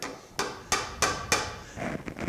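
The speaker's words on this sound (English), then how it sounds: "I'm going to hold this and get the hammer." A hammer taps a mortise and tenon wood joint for a bed into place, four sharp, evenly spaced knocks followed by a couple of lighter taps, close and clear with no talking.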